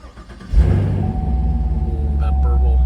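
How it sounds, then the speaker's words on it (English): A 2023 Chevy Camaro 1SS convertible V8 fires up, a sudden loud roar settling into a deep, rumbling exhaust burble close by. "that exhaust, even in touring normal mode, is just a beast right at startup"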